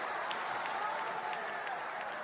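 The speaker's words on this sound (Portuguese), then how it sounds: "Dá glória a Deus, igreja, aplaude a Ele." A church congregation applauds during a lively Portuguese-language worship service: steady, dense clapping from many hands fills the whole stretch at an even level, with no voice on top.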